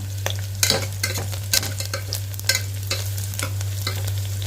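Spoon scraping and stirring green chillies in an oiled frying pan for mint pulao, repeated close scrapes over a steady sizzle and hum, no talking.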